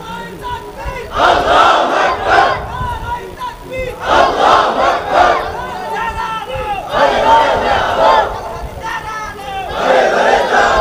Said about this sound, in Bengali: কারা কারা একটু তাকবীর বলেন, একটু নেতৃত্ব দেন